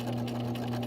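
Sewing machine stitching through several layers of fabric at a quarter-inch seam, a loud, steady motor drone with a constant tonal hum and even needle rhythm throughout.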